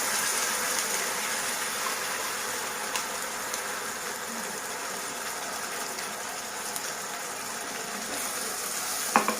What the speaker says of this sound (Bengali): আদা রসুনটা ভালো করে ভাজা হয়ে গেছে, এবার দিয়ে দেবো বানিয়ে রাখা পেস্টটা।